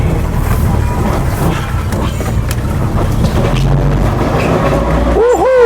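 A Nissan C22 Vanette driving in first gear with a loud, noisy cabin: a steady engine and road drone with rumbling low end throughout, and a brief rising whine near the end.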